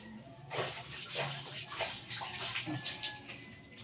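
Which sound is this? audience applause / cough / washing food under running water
washing food under running water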